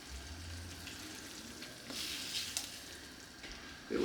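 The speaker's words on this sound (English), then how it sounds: "I'm just going to go ahead and add the garlic right now" Garlic sautés in a pan with a quiet, steady sizzle, and soft stirring and clinks of utensils come through near the end.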